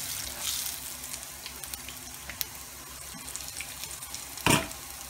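Panch phoron spices and garlic frying in very hot oil, a soft, steady crackle with scattered small clicks and one louder burst near the end.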